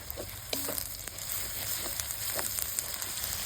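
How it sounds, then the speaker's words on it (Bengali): Ground spices — cumin paste, dried red chili paste, turmeric and Kashmiri chili powder — fry in oil for a mutton chusta, giving a steady, moderate sizzle with soft stirring scrapes and light crackles. No one speaks. "এবার মশলাগুলা ভালোভাবে কুষে নিব"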